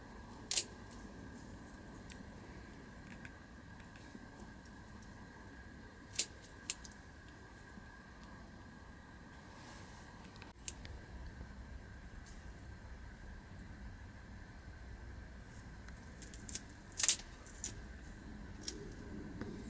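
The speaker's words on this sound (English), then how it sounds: "I'm going to use these bonsai scissors to try to remove them." Small bonsai scissors snip eyes off dahlia tubers, giving sparse, faint, sharp clicks scattered over a quiet indoor background, with a couple of louder snips near the end and no talking.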